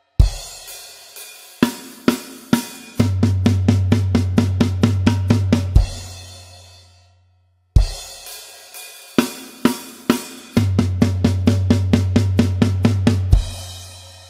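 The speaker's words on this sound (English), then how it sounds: "Okay, the final bar of verse number three sounds like this." Drums play the final bar of verse three of a song, twice over: a few sparse hits, then rapid even strokes over ringing low toms that end on a crash and fade, close and alone.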